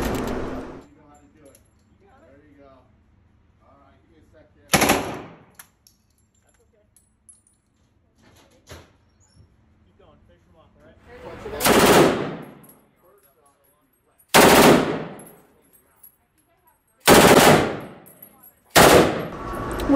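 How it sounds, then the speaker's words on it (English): Gunfire at a shooting range in Las Vegas: several loud, sharp shots ring out singly and in short bursts, separated by quiet gaps, with faint talk in between. "We stopped in Las Vegas to shoot some guns."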